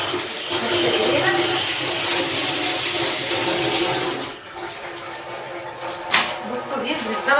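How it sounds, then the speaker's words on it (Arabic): Running tap water splashes steadily over hands at a kitchen sink after meat has been salted and set soaking, a continuous broadband rush that dips briefly near the end before resuming, with a voice talking over it. "نغسل ايدينا"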